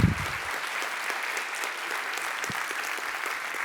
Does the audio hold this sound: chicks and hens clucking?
no